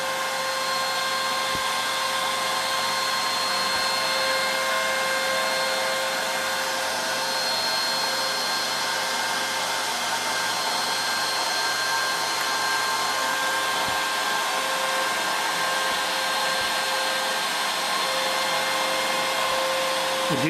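A CNC router carving with a small ball nose bit gives a steady, loud, high-pitched whirring drone with a constant spindle whine, unbroken and alone for the full stretch.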